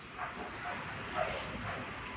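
Small puppies yipping and whimpering close by, a steady run of soft, high little cries with a slightly louder yelp near the middle, over faint background noise.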